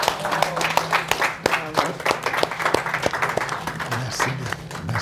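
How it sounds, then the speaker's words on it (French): Seminar audience applauding after a talk, a run of sharp individual claps over a room of steady clapping, fairly close, with a little voice mixed in and fading slightly toward the end. "Vos applaudissements en disent long sur la qualité, la hauteur de l'intervention de Khalid"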